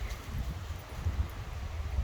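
Strong wind buffeting outdoors during a winter walk, a rough low rumble of gusts pounding the microphone continuously.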